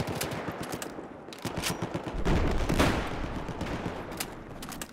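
Bursts of Bulldog gunfire in Battlefield 4 crackle steadily for several seconds, with rapid shots packed in dense volleys at moderate loudness and no talk over them.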